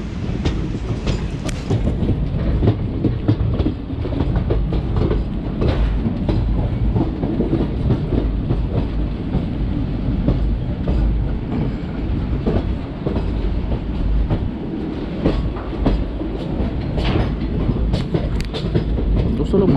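Steady rumble and clickety-clack of wheels on rails inside a moving Sabarmati Express passenger train, loud and continuous throughout with no one talking.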